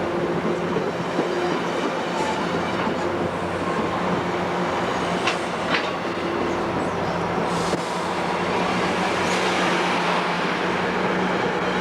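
A commuter train on the Boston & Albany line rolls out of Worcester toward Boston, giving a steady, close, continuous rumble with rail clatter throughout.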